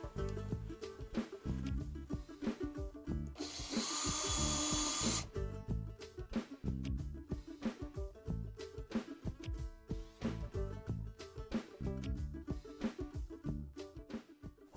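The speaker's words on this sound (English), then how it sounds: "and it's time to drill." A power drill bores a hole through a ski while a 22 Designs Outlaw X binding is mounted with a template, producing one loud, steady whine for about two seconds over rhythmic background music.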